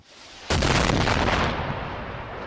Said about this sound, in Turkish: Humus'tan gelen ancak bağımsız kaynaklarca doğrulanamayan bu görüntüler ağır bombardıman düzenlendiğini gösteriyor